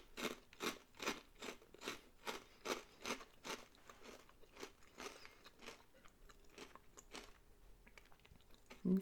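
Crunchy Cheese Whisp crackers flavored with basil and tomato being bitten and chewed close up, a steady run of crisp crunches that slowly fade as the cracker breaks down, with no talking.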